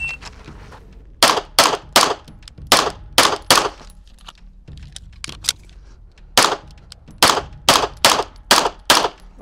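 Beretta LTT pistol fired in quick strings of sharp, loud shots, a burst of about eight followed by a pause and another fast string of ten or so, with quiet gaps between.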